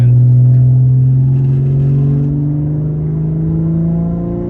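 A BMW G30 540i accelerating up a mountain road, its engine note climbing steadily in pitch as it pulls hard, loud and close from inside the car.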